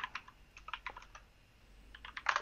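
Quiet clicking of fingers typing on a computer keyboard, in short uneven bursts with a pause in the middle and a louder flurry of keystrokes at the end, with no talking.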